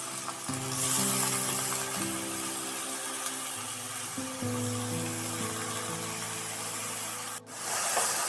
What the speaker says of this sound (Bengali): এবার ভালোভাবে একটু নাড়াচাড়া করে নিতে হবে বাঁধাকপি থেকে যে জলটা বেরোবে সেই জলটা কিন্তু শুকোতে হবে